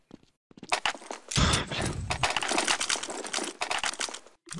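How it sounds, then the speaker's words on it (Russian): Rapid, loud footsteps of a player running in Counter-Strike 1.6 during a 5v5 match, a dense clattering stream of close steps with brief pauses and game noise mixed in. "Ты можешь не топать, Миша?"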